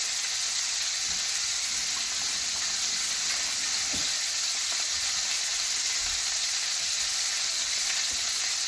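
A steak pan frying, a dense, bright, continuous sizzle that holds steady and loud from start to finish, with a few faint knocks beneath it and no speech.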